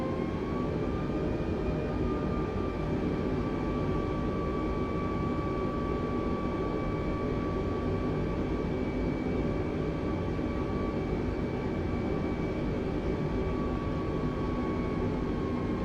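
An airliner taxis out toward runway 28 right in Microsoft Flight Simulator, a steady, loud engine whine and hum holding constant with a sustained tonal note, no voices over it.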